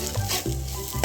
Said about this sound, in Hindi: तो आलू में मैं इन सारी चीज़ों को अच्छी तरीके से मिक्स कर लेती हूँ